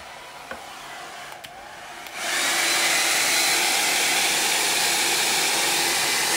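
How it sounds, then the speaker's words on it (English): A handheld blow dryer clicks on after a couple of seconds of quiet room noise, then blows in a loud, steady whoosh over a painted craft project close by. "let me hit this with a blow dryer real quick"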